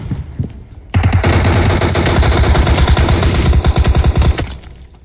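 Automatic gunfire in the video game PUBG: a loud, close burst of rapid shots firing continuously for several seconds after a brief lead-in, ending abruptly.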